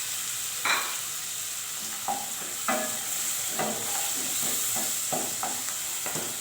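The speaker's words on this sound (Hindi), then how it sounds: "मेथी ऐड करें। हल्की आंच कर दें, मसाला जले नहीं, इसकी थोड़ी सी भुनाई करें।" Fenugreek leaves and masala roast gently over low heat in a pan, with a soft steady sizzle and a series of distinct spoon scrapes and taps as the mixture is stirred.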